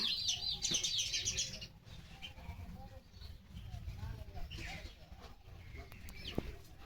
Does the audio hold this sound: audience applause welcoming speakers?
no